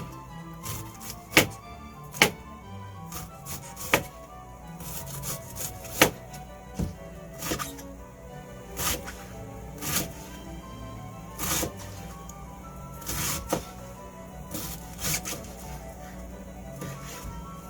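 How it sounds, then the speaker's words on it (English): Heads of cabbage thinly sliced with a knife for sauerkraut, sharp repeated chopping thunks against a board in an irregular rhythm, close and alone with faint rustling between cuts. "I'm just going to slice these as thin as I can"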